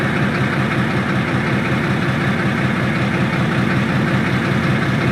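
A DB BR204 diesel locomotive idles in Train Sim World 2, a loud, steady low rumble with a constant throbbing drone and no change in pitch throughout.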